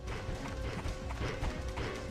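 An enemy horse gallops in the PlayStation game Parasite Eve II, hooves clattering in a fast, busy rhythm mixed with thumping impacts and game noise.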